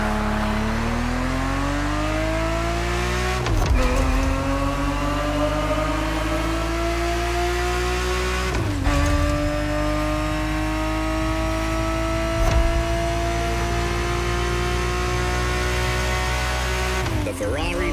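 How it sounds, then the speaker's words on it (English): A Ferrari 365 GTB4 in a racing video game, its engine droning loud and steady as it climbs through the gears, with three sharp shift breaks before the pitch rises again. "The Ferrari 365 GTB4 is the perfect vehicle for you to experience Ferrari racing as it felt back in the 70s"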